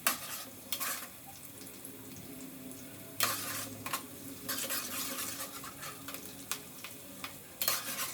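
Onions being stirred briskly in a pan, a steady low sizzle broken by repeated metal spatula scrapes and clanks at irregular intervals, close and fairly quiet.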